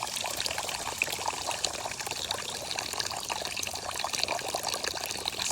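Water from a small solar-powered DIY pump fountain in an outdoor water feature splashes and trickles steadily, with a continuous close, bright pouring wash and no break or talking.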